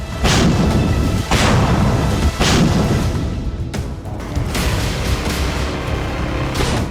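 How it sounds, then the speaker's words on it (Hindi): Artillery fire in a war zone in eastern Ukraine, with heavy booming blasts at a steady rhythm over a constant dense roar, loud and fairly near, with no talk. "आर्टिलरी से विनाशक फायर"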